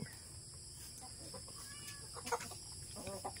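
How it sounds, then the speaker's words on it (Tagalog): Chickens clucking softly nearby on a farm in the Philippines against a steady background hum of insects, with a few louder clucks scattered through. "Yan ang aming mga manok."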